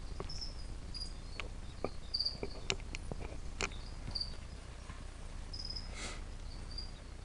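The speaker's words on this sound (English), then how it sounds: "that cricket's going in there" Cricket chirping in a feeding enclosure: thin, high, repeated chirps over a faint steady background, with scattered soft clicks and taps, no talking.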